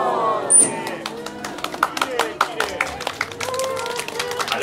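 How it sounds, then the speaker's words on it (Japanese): Light, scattered applause from a small aquarium audience after a beluga blows a bubble ring, with quick claps breaking through a murmur of voices and crowd noise. "やっぱり最初に見ちゃったんで拍手かなり控えめでしたね。"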